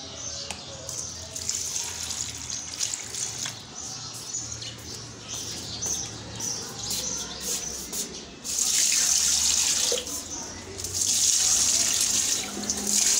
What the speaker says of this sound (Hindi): चले पहले पौधों को पानी डालते हैं